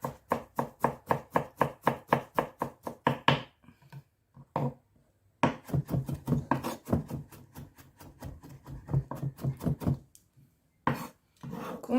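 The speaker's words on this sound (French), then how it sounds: "On coupe en petits pour avoir à peu près une cuillère à café de gingembre." A knife chops ginger into small pieces on a cutting board, a fast, regular run of crisp close taps, a pause, then more uneven chopping bursts and a final few strokes.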